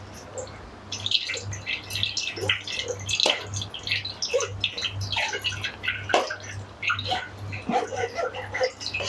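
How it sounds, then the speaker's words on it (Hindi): A spoon stirring and scraping falsa juice through a strainer, soft irregular clinks and wet swishing with dripping, close up over a steady low hum, no talk. "अब हम इसको अपने जूस को इसमें डालेंगे और चम्मच से अच्छी तरह से हिलाएंगे"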